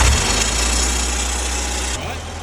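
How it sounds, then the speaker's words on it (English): A repaired car engine, brought back to life after air-fuel mixture work, runs steadily and loudly up close with a deep, constant low rumble; the tone shifts slightly near the end. "That's the running engine right there."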